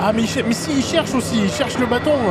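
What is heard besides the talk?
No everyday noise stands out behind the speech.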